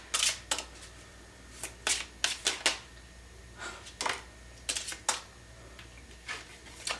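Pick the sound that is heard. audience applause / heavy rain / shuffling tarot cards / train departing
shuffling tarot cards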